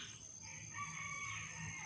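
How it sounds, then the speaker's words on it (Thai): A wild junglefowl crows faintly at a distance in a pesticide-free vegetable and fruit garden around a rural home, a single drawn-out call over quiet outdoor ambience. "นี่เสียงไก่ป่าร้อง"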